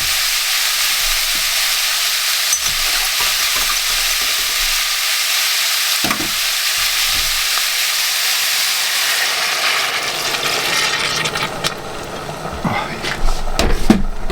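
Stock poured into a hot pan of caramelised meat and vegetables for a Lancashire hotpot, a loud steady sizzle and steamy hiss throughout that thins toward the end as the liquid settles, with a few clinks of stirring.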